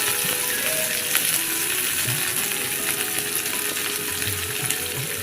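Chopped onion fries in hot oil for an egg and potato curry, a dense, even sizzle with occasional faint stirring taps, steady and close with no talk.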